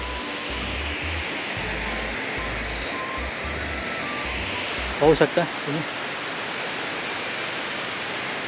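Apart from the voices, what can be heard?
Dhodhani waterfall near Panvel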